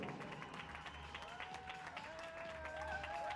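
Applause at a women's tennis or padel final, a faint, distant patter of clapping under crowd murmur and a few voices.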